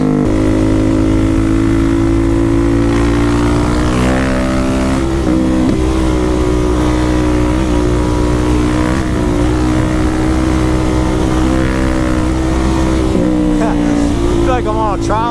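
A Suzuki DR-Z motorcycle ridden over a bumpy road, its engine droning loud and close throughout with a wavering pitch that rises and dips as the throttle shifts over the bumps.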